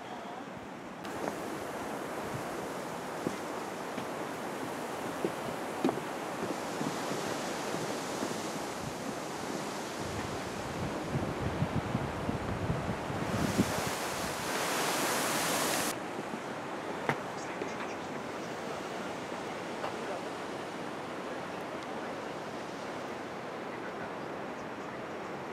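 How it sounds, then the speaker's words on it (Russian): Sea waves with whitecaps on the Curonian Spit, heard as a continuous broad wash of surf mixed with wind rushing over the microphone, swelling into a louder gust partway through. "Море, барашки."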